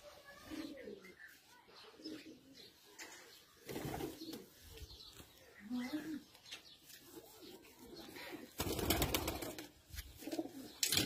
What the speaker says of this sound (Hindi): ये असल में डॉक्टर साहब के घर के कबूतर है